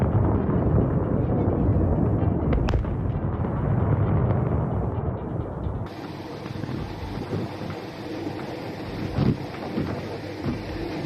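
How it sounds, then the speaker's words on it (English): A fireworks factory explosion in Hesperia, California rolls out as a loud, continuous low rumble and roar with wind buffeting, plus a sharp crack near the start, all without voices. "The fireworks factory explosion in Hesperia, California, United States on July 3,"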